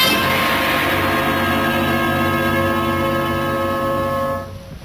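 A train sound effect in a radio drama: a steady, loud rumbling run of railway noise with a sustained tonal horn-like drone, continuous for several seconds before tailing off.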